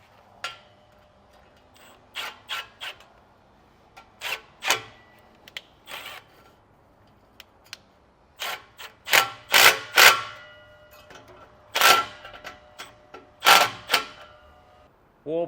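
Bolts on air helper springs being snugged down with a ratchet, giving scattered sharp metallic clicks and ticks in short irregular runs, close by and separated by quiet pauses, with no talking.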